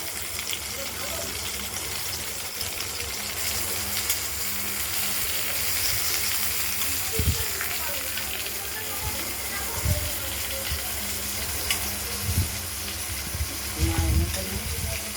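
Pointed gourd (potol) frying in oil in a wok gives a steady, moderately quiet sizzle and hiss, broken by a few soft knocks and clatters of handling.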